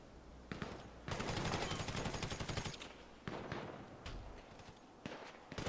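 Rapid automatic gunfire in GTA 5, long rattling bursts broken by short pauses and single sharp shots, fairly close, with a faint steady high whine behind it.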